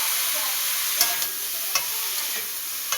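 Pumpkin and potato pieces hit hot oil seasoned with spices and dried chilli in a frying pan, giving a steady soft sizzle with a few sharp clicks of a spatula stirring, no voices.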